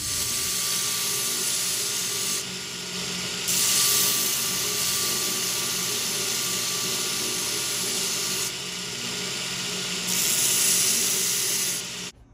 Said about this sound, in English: So for that little bit of grinding I did on the grinder, I actually went through a whole 32 grit belt.